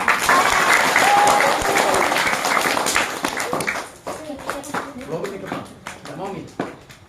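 Schoolchildren at a primary school religious talk applauding together, a loud burst of dense clapping that thins into scattered claps and chatter, with a voice speaking over the end.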